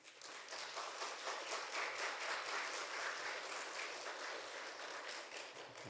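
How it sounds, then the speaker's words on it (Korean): A church congregation applauds to welcome a guest pastor at an autumn revival service, a steady broad wash of clapping that holds evenly for the full stretch, moderately loud and without talk over it. "오늘도 우리 강사 목사님 나오실 때 박수로 환영해 주신 감사하겠습니다"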